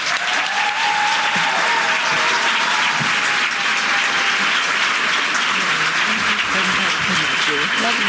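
A conference audience at a keynote breaks into sustained, loud applause welcoming the speaker to the stage, dense steady clapping with some crowd murmur underneath.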